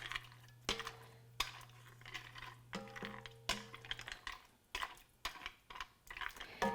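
Pasta and Italian sausage stirred together in a skillet: a quiet run of clinks and scrapes from the spoon against the pan, with soft wet shuffling and a low steady hum beneath.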